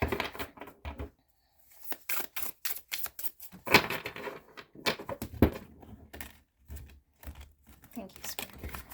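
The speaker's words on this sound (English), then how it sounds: "now I will shuffle until I feel the energy is right" Tarot cards are shuffled in quick, crisp bursts of riffling and slapping, with brief pauses between rounds.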